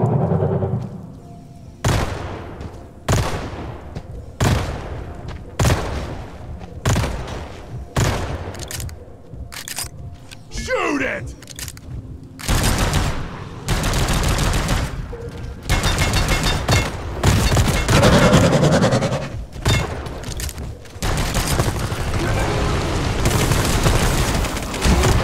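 Dense bursts of gunfire from the game Deep Rock Galactic, loud rapid volleys broken by short gaps, then nearly continuous shooting and booms over the last ten seconds.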